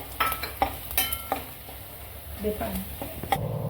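Green chili and grated fresh coconut sautéing in a pan, with soft sizzling and occasional spoon-stirring scrapes and taps against the pan, close and moderately loud, with brief voice sounds in between.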